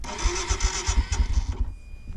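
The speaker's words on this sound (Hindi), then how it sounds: "ये भगवान बाइक स्टार्ट हो जाए" A motorcycle engine cranks and tries to start in freezing winter cold at a snowy campsite, loud rough sputtering bursts for about a second and a half, then cutting out into near quiet.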